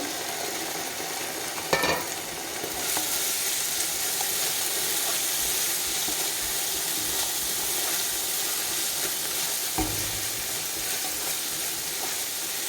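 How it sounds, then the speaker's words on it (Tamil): Ginger garlic paste sautéing in a pan for Dindigul mutton biryani gives a steady, close sizzling hiss, broken by a couple of brief spoon scrapes or clinks near the start and toward the end. "இதுவும் நல்லா பச்சை வாசனை போகிற அளவுக்கு நல்லா வதக்கி விட்டுக்கோங்க."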